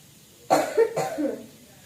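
Two or three sharp coughs close by, one after another in quick succession, with a short breathy trailing sound after them.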